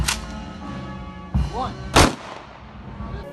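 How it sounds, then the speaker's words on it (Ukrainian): Three loud rifle volleys crack out in quick succession at a military funeral in Ternopil, each a sharp blast with a brief echo, above a low background murmur. "Звучить останній салют на честь загиблого героя."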